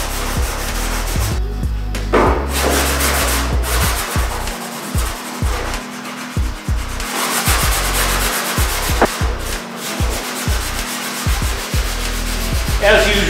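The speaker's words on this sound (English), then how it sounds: "I'm just gonna sand along here and I'm gonna get this all smoothed off" Body putty on a Datsun 240Z is sanded by hand in steady back-and-forth strokes, a close, rhythmic scratchy rubbing that continues without a break.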